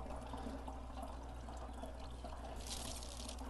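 Water runs steadily through the hose of a compost water heater, a continuous close rush and trickle with a brighter splashing swell near the end, no talk.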